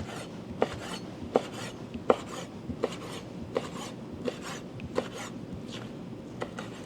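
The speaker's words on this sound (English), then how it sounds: "All right, so we're going to chop up some squid." A knife chops squid on a cutting board for Korean soft tofu soup, making a series of about a dozen sharp, evenly paced taps, close and fairly quiet with soft rubbing between strokes.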